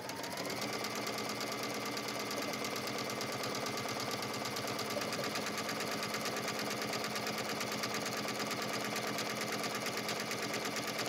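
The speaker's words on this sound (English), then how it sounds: "let's go ahead and sew our buttonhole." A sewing machine stitches a buttonhole in ponte knit fabric, making a fast, steady mechanical whir and rapid needle chatter that runs evenly throughout at a moderate, close level with no talking.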